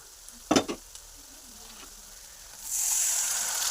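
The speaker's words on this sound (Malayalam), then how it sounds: "വിനാഗിരി ഒഴിക്കണം." Vinegar is poured into frying spices for beef pickle, bringing a couple of sharp splashes followed by a steady, rising sizzle in the pan.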